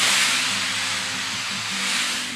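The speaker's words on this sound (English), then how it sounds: "Puts out a lot more steam when you go faster." A Shark Steam Mop Pro gives off a loud, continuous, close steam hiss that holds steady throughout and eases off slightly at the end, with a faint low hum beneath and no talk.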